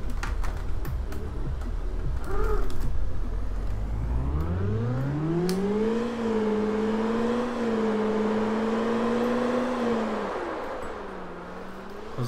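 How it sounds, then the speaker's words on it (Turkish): A Tesla in the driving game CityDriver speeds up with a rising electric whine, holds a steady tone, then winds down as it slows. The sound is loud, close and continuous, with no talk over it. "Hızlanmasından daha hızlı yavaşlıyor araba yalnız."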